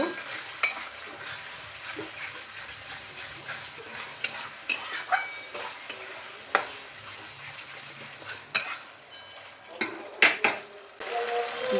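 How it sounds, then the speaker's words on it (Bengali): Pabda fish masala with beaten yogurt is stir-fried in a pan, a continuous close sizzle broken by repeated scraping strokes and sharp clinks of a metal spatula against the pan, without talk. "দিয়ে ভালো করে কষিয়ে নেব"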